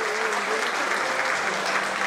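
Audience applause welcoming the chief guest at the 50th edition of the IGJA jewellery awards event, a sustained even roar of many hands clapping in a large hall, steady and full for the whole stretch.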